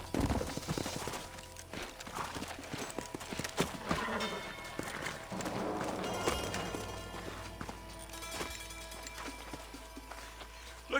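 Horses' hooves clip-clop at a steady trot in Red Dead Redemption, a rhythmic clatter mixed with game music and ambient noise, with a brief whinny-like cry near the middle.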